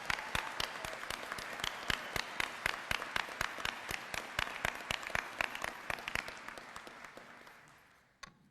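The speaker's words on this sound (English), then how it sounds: "Let's give a round of applause for Mr. Schock and Mr. Prattis." Sustained applause from a large crowd fills a NYC Sanitation graduation and promotion ceremony in September 2025, with dense, steady clapping that fades near the end.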